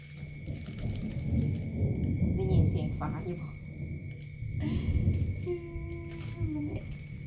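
Low, rolling rumbles of thunder from a thunderstorm with lightning sound in the distance, swelling twice beneath speech, steady tonal hums and faint birdlike chirps.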